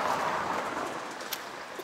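Heavy rain falls in Meghalaya, India, a dense, steady hiss of downpour close by with faint scattered drips throughout.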